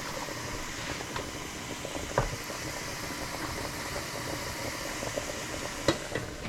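Onions for urad dal dosa sautéing in a pan, giving a steady close sizzle with a few faint clicks and taps from stirring.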